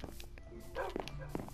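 Pet dogs in Minecraft bark and yip a few times in quick succession, under players talking over game sounds.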